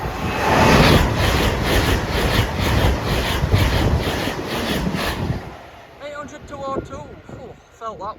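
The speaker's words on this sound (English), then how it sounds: "Train coming behind shortly." A train passes over the Cromwell Lane level crossing, rumbling loud and close with a rhythmic wheel beat before dropping away, after which someone speaks nearby.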